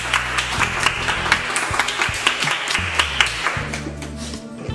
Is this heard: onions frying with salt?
no